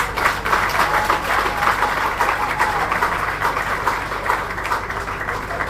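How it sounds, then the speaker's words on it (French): A crowd claps steadily at a tribute ceremony honouring Professeur Paul Malembe, founder and first rector of ISTI, a dense, even wall of applause throughout. "je vous demande d'applaudir"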